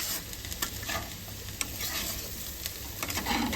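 Potato slices frying in a pan, with a dense, steady sizzle and light crackle up close, punctuated by brief scrapes and clicks as the pieces are moved around.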